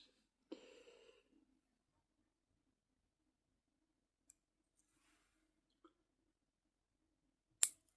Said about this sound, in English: now I'm just going to perform some trimming exercises